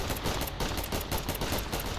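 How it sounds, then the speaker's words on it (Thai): Dense, nonstop gunfire in a Roblox shooting game, with rapid overlapping shots forming a loud, steady barrage. "ได้ยินเสียงปืนรอบทิศเลย แต่ไม่เห็นตัว"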